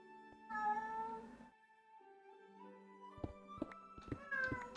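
A cat in a modded Minecraft game meows several times, separate drawn-out cries with strong harmonics, along with a few sharp clicking game sounds toward the end, fairly quiet overall.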